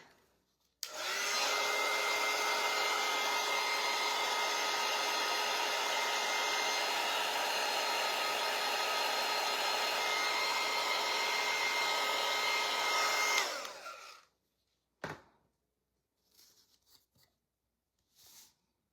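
A hair dryer blows steadily and loudly for about thirteen seconds over painted wooden sign post pieces, then cuts off, leaving a few faint clicks and handling noises.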